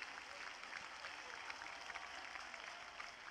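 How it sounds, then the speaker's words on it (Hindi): An audience applauding at a motivational talk, a dense steady wash of clapping that sounds distant and faint, holding even throughout. "जबरदस्त तालियां, जोरदार तालियां"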